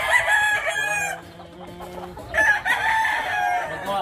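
Chickens clucking and a rooster crowing in a gamefowl yard, with loud close crows at the start and end and a lower clucking passage between them.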